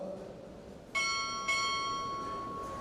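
A ship's bell struck twice at a Navy chief petty officer pinning ceremony, two bright ringing strokes about half a second apart, each leaving a long shimmering decay in a quiet hall.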